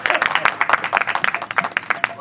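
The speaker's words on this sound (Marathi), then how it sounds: "टाळ्या." An audience at a comedy stage show claps in a brisk, uneven burst of applause, close and fairly loud, for a couple of seconds.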